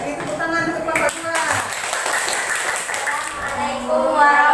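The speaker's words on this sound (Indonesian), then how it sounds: "Beri tepuk tangan untuk kelompok 2." A class of sixth-grade pupils applauds a student group, producing a dense, steady wash of clapping that lasts throughout, with children's voices mixed in.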